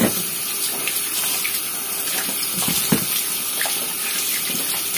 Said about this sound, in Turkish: Hemen bol suda yıkayalım acılarımızı.